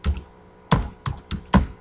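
Separate keystrokes on a computer keyboard while a VB.NET program is written, about four or five distinct taps spread across two seconds, each with a solid low thump, close and fairly loud, with no talking.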